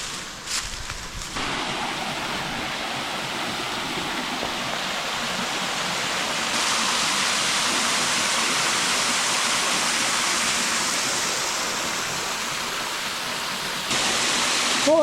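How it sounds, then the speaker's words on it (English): A small waterfall in Alabama's Sipsey Wilderness pours with a continuous, even rush of falling water, close and steady for the full length, with no one talking. "Well, that's a nice little waterfall."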